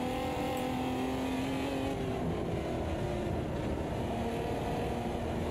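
A race car engine in the Automobilista 2 racing sim revs and drones continuously, the pitch rising and falling through gear changes, loud and close with no talk.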